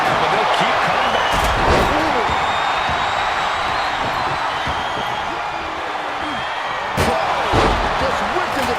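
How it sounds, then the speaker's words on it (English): A wrestler is whipped into a table in the WWE 2K25 video game, a tag team match, giving a heavy slam around the start and another near the seven-second mark over steady crowd noise and game commentary. "Just whipped into the table."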